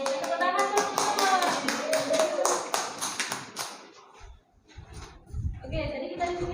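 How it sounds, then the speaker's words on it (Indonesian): Students in a small equivalency-program classroom clap together in a quick burst of fairly close applause, which fades as a voice starts talking. "Tepuk tangan semua."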